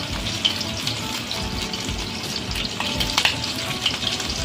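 Meatballs frying in a pan, giving a steady close sizzle with faint stirring scrapes and small clinks, continuous and fairly loud throughout.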